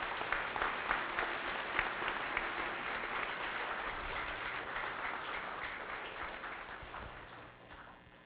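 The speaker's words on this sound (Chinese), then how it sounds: "咱是咪请热烈的掌声来欢迎林义雄先生。" Warm audience applause at a new hall dedication ceremony welcomes Lin Yi-hsiung, a dense wash of many hands clapping steadily before gradually thinning and fading toward the end.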